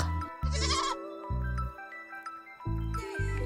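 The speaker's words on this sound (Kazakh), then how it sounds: "Лақ." A young goat lets out a single wavering, high bleat near the start, and a second shorter bleat comes near the end, both over light background music.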